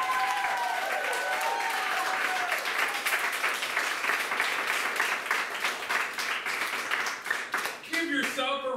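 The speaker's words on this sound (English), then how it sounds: "Give yourself a round of applause." Sustained applause from an improv show crowd, dense steady clapping for several seconds with some whoops and cheers rising near the end.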